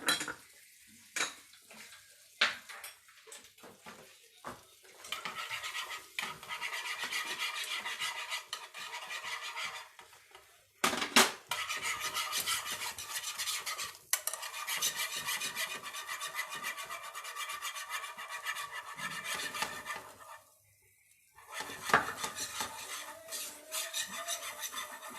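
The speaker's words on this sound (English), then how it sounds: "We'll make brown roux out of it." Butter and 40 grams of flour stirred in a pan into a brown roux: steady scraping and rubbing of a utensil against the pan, continuous with brief pauses, close and moderately loud, no talk.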